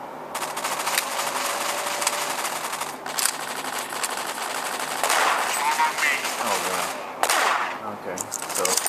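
Rapid, continuous pistol fire from dual pistols in Counter-Strike on the original Xbox, dense sharp shots in long bursts with short gaps, close and loud, with a voice speaking over parts of it.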